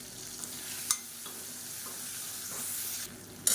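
Tomato, onion and spices sautéing in a pan for a mango kara kulambu, with a soft steady sizzle, a few sharp stirring clinks and scrapes, and no talking.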